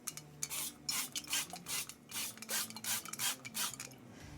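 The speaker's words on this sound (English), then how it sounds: "I'm just going to give it a light spritz with some oil and then give it a light dusting with some flour" A baking pan is spritzed with oil and dusted with flour, heard as a series of short, close rasping and rubbing bursts in an uneven rhythm, with no talking.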